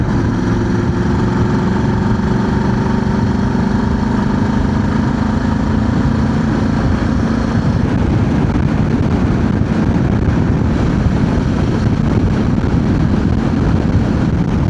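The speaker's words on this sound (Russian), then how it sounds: "Борюсь с сильнейшим ветром" Heavy, continuous wind roar blasting across the microphone while riding solo across the Sahara on a sandy road toward Dakar, loud and unrelenting, with a low engine hum blended underneath.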